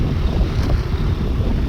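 Cold wind roars and buffets against the microphone during a scooter ride on the snowy Ladakh to Manali road, a loud continuous low rumble with no pauses.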